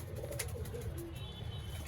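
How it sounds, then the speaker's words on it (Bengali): Pigeons in a home loft give soft, low cooing amid a steady background hum, with faint scattered chirps; the birds sound close but quiet, and nobody speaks. "অনেক পায়রাই আছে এখানে"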